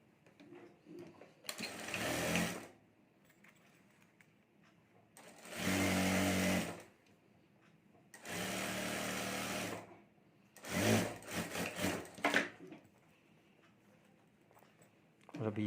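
A sewing machine stitches a zip onto a sling bag strap in four loud, close bursts of rapid whirring, each lasting one to two seconds, separated by quiet pauses with some speech.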